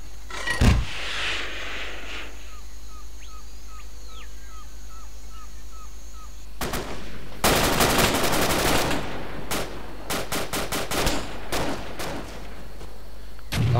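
A firefight in the ARMA 2 Vietnam mod, with a distant boom early on followed by rapid bursts of gunfire and sharp cracks. Faint radio-like tones sound in the background.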